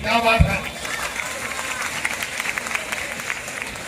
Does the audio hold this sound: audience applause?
yes